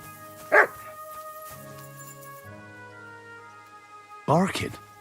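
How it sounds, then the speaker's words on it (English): A dog barks in Kingdom Come: Deliverance 2, two sharp barks spaced several seconds apart over a soft sustained musical drone, fairly close. "Barking?"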